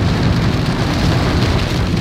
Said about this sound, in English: we had some crazy rains like this.